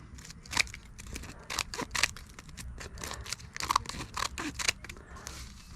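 Pruning shears snipping firewood branches, a series of sharp crisp snaps and crunchy clicks at an irregular rhythm, close by and fairly quiet over light background noise.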